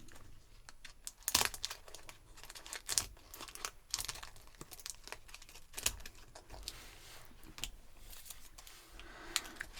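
A tightly packaged Italian pastry snack wrapper being cut and pulled open, with crisp crinkling, tearing and rustling plastic in irregular bursts, close and soft, no talk.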